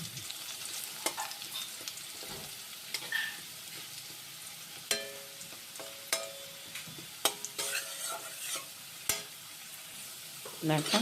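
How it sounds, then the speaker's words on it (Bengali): Potatoes fry in a pan with salt and turmeric, giving a soft steady sizzle broken by sharp scraping and clattering stirring strokes, close and fairly quiet, with no one speaking. "আলুটা এবার ভেজে নিচ্ছি সুন্দর করে একটু নুন হলুদ দিয়ে"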